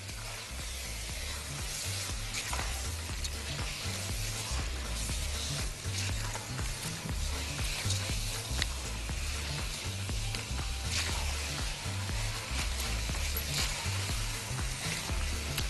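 Rice and toasted vermicelli stirred in a hot pot give a steady, close sizzle with soft scraping, continuous and even throughout, with no voices.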